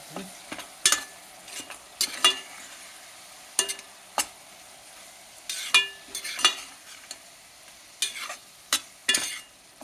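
Crushed spices stirred in a hot pan while preparing Ramadan dal khichdi, with close, irregular scraping strokes and bursts of sizzling spread across the whole stretch, no voices.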